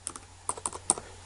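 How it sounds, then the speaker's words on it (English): Quick keystrokes on a computer keyboard, a handful of soft, close clicks tapped in short uneven bursts over a faint background hum. "So if I type"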